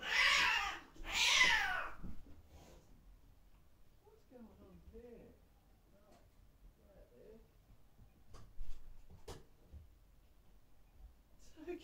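Gigi, a house cat, gives two loud, close meows at the start, followed by faint rustling and soft sounds in a quiet room.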